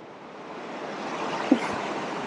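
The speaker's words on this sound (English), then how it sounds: "And then just right here's the ocean." Ocean surf rolls onto the sand at Daytona Beach, a steady broad wash of breaking waves with a little wind on the microphone and a brief bump partway through, with no voices.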